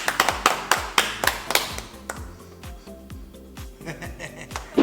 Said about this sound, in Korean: 다 같이 박수 한번 칠까요?